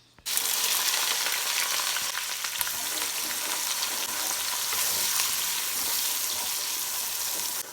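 Steady, loud sizzling of onions hitting hot oil for Nigerian tomato stew, starting abruptly and continuing evenly with faint crackles throughout, no voices.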